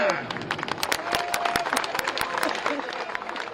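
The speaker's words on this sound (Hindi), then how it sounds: "तालियां" A crowd at a religious gathering at the Maha Kumbh breaks into loud, dense applause, many hands clapping close and continuously with scattered cheering mixed in.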